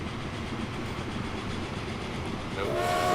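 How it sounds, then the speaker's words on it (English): Trains leave a depot in the Transport Fever video game with a steady rumbling, rattling rail noise that swells toward the end as a faint whistle-like tone rises over it. "the second train, when that comes out, we will drop her on in"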